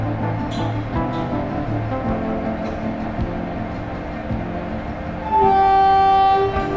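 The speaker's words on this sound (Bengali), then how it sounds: "আমার পেছনে যে ট্রেনটা আছে এটাই হচ্ছে আজকে আমার নিউ জলপাইগুড়ি পর্যন্ত গন্তব্যের ট্রেন, তিস্তা তোষা এক্সপ্রেস" Teesta Torsa Express standing at Sealdah station, with a steady rumble of a train and platform din throughout and a sustained horn-like tone near the end.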